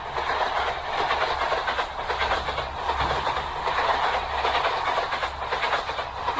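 A train rolls past in the Indian Train Crossing 3D mobile game, making a continuous loud rumble with a rhythmic clickety-clack of wheels over rail joints that holds steady the whole time, with no talking.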